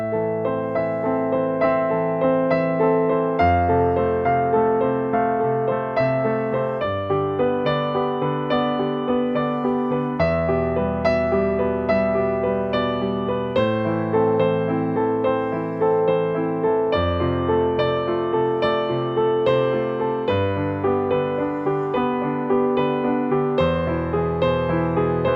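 Solo piano plays a steady, sustained flow of repeated arpeggiated notes over low bass notes that change every few seconds, clear and close with no talking.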